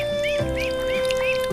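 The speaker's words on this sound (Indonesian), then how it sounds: "Ini kolam bebek saya teman-teman, memang sengaja dibuat untuk bebek mandi ya" Several ducks quacking at a backyard duck pond, four or five repeated close calls over a steady background hum, with a few lower thumps between them.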